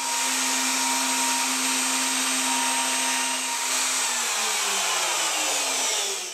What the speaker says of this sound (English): I will do that with a half inch pattern bit on my router